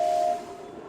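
A short steam engine whistle toot from a Thomas and Friends video game, steady and fairly loud, fading into a hissing rumble.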